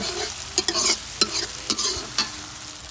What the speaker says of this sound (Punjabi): ਹੁਣ ਆਣ ਕੇ ਮੈਂ ਤੜਕਾ ਲਾਉਣ ਲੱਗੀ ਆ